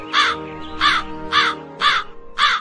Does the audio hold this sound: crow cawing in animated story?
yes